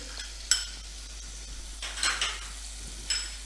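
Green chili and onion sautéing with ginger-garlic-coriander paste in a pan, a low sizzle broken by a few sharp clinks and scrapes of a spoon stirring against the metal, close by.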